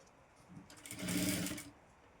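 A sewing machine briefly whirs up close, stitching a folded border onto a designer princess-cut boat-neck blouse, a short burst of under a second rising from quiet room noise and then cutting off.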